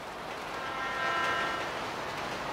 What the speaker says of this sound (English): Oh, is this a train?